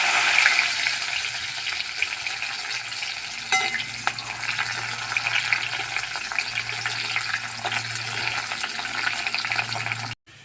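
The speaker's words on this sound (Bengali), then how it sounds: "তেল গরম হয়ে গেছে, এবার আমি পেঁয়াজ ফোড়ন দিয়ে দেবো।" Onions tempering in hot oil for a thin Bengali small-fish curry with tender stalks make a steady, close sizzle and crackle, with a few brief clatters and no talking, until the sound stops at the very end.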